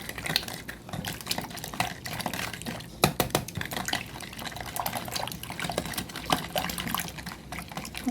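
A spoon stirs a liquid coconut milk mixture for ginataang bilo-bilo in a pot, giving continuous wet swishing with occasional sharp clinks of utensil against metal, fairly close and with no talk.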